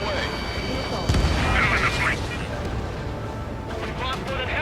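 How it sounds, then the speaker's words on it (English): Missile launch and rumbling explosions in the Ace Combat 7 jet combat game, a sharp blast followed by continuous heavy roaring noise, with radio-style voices talking over the action. "Missile away."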